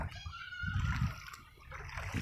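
Floodwater splashes and sloshes outside a home in a flooded area after Typhoon Ulysses, with close, irregular watery movement that runs throughout.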